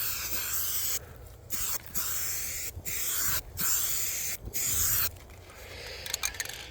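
A Rust-Oleum spray can fitted with a 5-in-1 custom spray handle mists a fog coat of paint, giving repeated steady hissing bursts with short gaps between them, close and fairly quiet.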